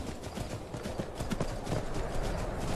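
Horse hooves clip-clopping steadily in the video game Skyrim Special Edition on Xbox One, a continuous rhythmic trot under dense game ambience, with no talk.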